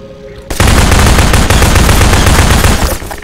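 Sustained loud enemy gunfire in Half-Life 2 erupts abruptly after a quiet moment, a dense, unbroken roar of automatic shots that continues steadily to the end.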